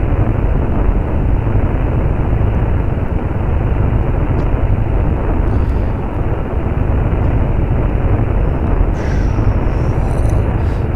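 A Kerbal Space Program rocket with Rockomax 2.5 meter fuel tanks and engine climbing at half throttle: a steady, loud, dense roar holds evenly throughout with barely any change, like constant engine thrust.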